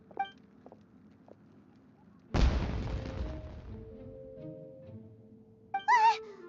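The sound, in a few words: fireworks explosion in the video game Genshin Impact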